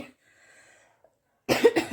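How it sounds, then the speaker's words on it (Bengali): A person coughing near the microphone, a short burst of two or three harsh coughs after a mostly quiet stretch with faint background hum. "উঠে থেকে তো কাশি শুরু হয়ে গেছে"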